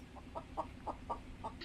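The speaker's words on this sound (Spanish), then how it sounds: "¿Son gallinas reales?" Chickens clucking in the video game Contraband Police, a series of short rhythmic clucks at steady intervals, moderately near over a low background hum.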